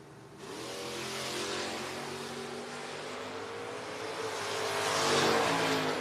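Drag strip run by Mustangs, including a 1968 Mustang: a loud engine roar builds as cars launch and pull away, rising through gear changes and swelling again toward the end; no talk.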